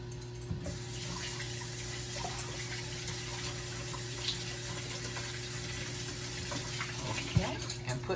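Tap water runs quietly over hand mixer blades at a kitchen sink, a soft, even trickle under a steady appliance hum, with a few small clinks near the end.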